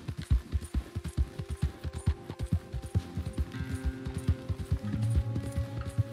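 Horse hooves gallop in Red Dead Redemption 2, a quick, even clip-clop of hoofbeats close by and prominent, with a low game hum underneath.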